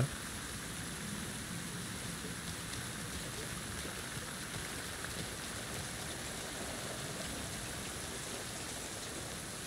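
Steady, dense rain hiss in Alan Wake 2 on PC, a constant close wash of falling water that runs unbroken through the whole stretch with no talking over it.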